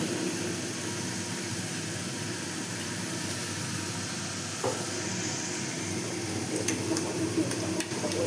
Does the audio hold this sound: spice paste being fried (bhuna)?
yes